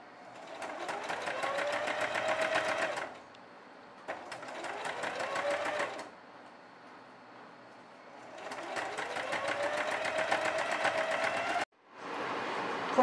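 A sewing machine stitches a faux leather jumper in bursts of fast, even mechanical whirring, three long runs separated by pauses, close and clear with no talking.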